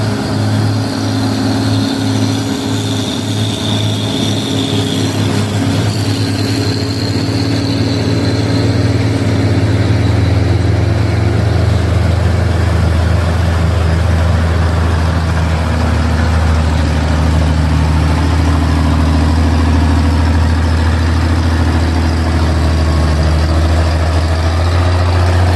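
A heavy truck engine labors steadily for a long stretch on a steep hill climb called Bukit Kodok in Indonesia, a loud continuous low drone with a slight shift in tone partway through.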